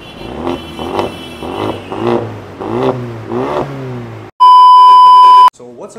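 A superbike with an original SC Project titanium full-system exhaust revs in about six sharp, rhythmic blips, loud and close, then falls quiet before a loud steady electronic beep and a short final blip.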